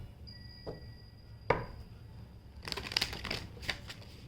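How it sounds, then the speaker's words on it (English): Oracle cards from an Archangel Michael deck are handled. A single sharp tap comes first, then a flurry of crisp, papery shuffling and slapping of cards, close up and fairly quiet. "let me, with that note, pull out some cards from Archangel Michael"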